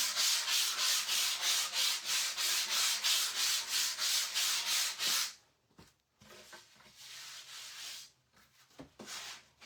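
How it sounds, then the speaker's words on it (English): Sanding a 16-inch round wooden Christmas door hanger to knock down raised grain: steady rhythmic rubbing strokes, loud and close, for about five seconds, then softer, intermittent scraping and handling noises. "So I want to go over it and sand it really good."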